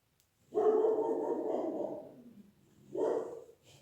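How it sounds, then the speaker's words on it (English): A dog gives a long, drawn-out bark or howl, then a shorter second one after a pause, fairly close and alone with no talking. "Dogs, they see a cat, they go wild."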